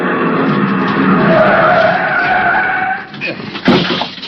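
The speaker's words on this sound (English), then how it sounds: "The other driver had jammed on his brakes and finally skidded to a stop against the curb" A car brakes hard and skids to a stop against a curb, a long loud tire squeal over engine noise that fades after about three seconds, followed by a few sharp knocks and thumps.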